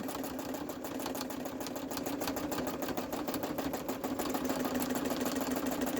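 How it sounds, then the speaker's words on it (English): A steady mechanical whir with rapid rhythmic ticking runs continuously at an even level, like a sewing machine stitching up close. "then I'll stop the sewing machine"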